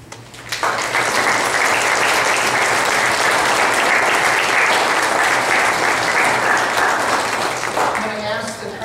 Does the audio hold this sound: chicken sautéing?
no